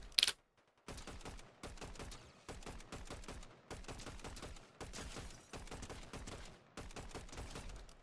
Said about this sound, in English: you can just work on getting some shots off like that. Some tap fire shots.